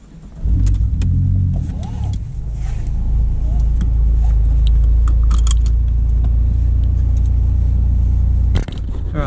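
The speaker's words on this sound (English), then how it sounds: "today we're gonna mic up the turbo side intake and see how she sounds." Car engine fitted with a turbo-side intake, miked near the intake, starting up and settling into a loud, steady low rumble with a brief dip near the end, faint speech in the background.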